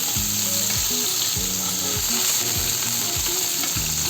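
Chopped jackfruit seeds frying with tempered spices in a pan for a Bengali dhenki shak dish: a steady, loud sizzle throughout, overlaid by repeated low stepped mechanical-sounding tones.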